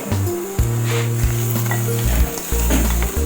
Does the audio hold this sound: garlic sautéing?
yes